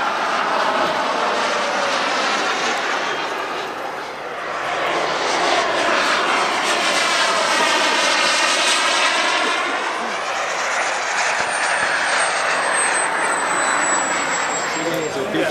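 Large turbine-powered RC model helicopter flying aerobatics, a loud turbine whine and rotor roar that swells and sweeps as it passes, with a pitch-shifting sweep in the middle.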